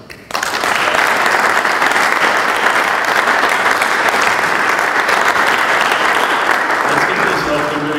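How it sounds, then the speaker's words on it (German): An audience at the Deutsches Museum gives loud, sustained applause for Dr. Lambrecht and the ZEISS Group. The clapping starts abruptly and stays dense and even for several seconds, close and full. "bitte um einen großen Applaus an Dr. Lambrecht und die Zeiss Group"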